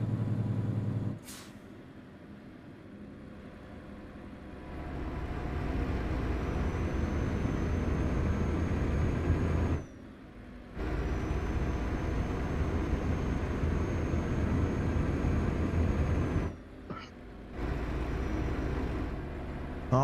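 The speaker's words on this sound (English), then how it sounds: "this engine sound makes way too much noise" A truck engine in the Euro Truck Simulator 2 video game drones steadily during a convoy drive, with a low rumble and faint whine that drop out briefly a few times, with hissing air-brake-like releases in between.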